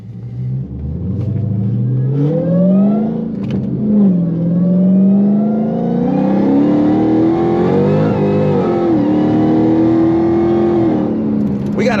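An 800+ hp Dodge Charger Hellcat accelerating hard on a highway at night, heard from inside the car: a loud, deep engine roar climbing steadily in pitch through a long pull, with a brief dip partway through.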